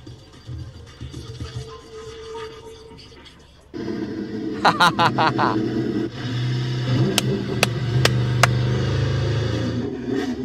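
Racing broadcast played loud through a Datsun Go car audio system, with roaring, revving race engines and a voice in the mix, growing fuller and louder partway through.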